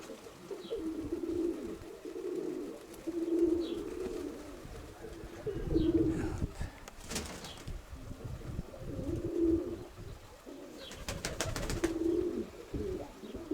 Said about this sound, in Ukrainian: Красивий голубіночок такий.